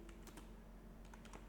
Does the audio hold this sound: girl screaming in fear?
no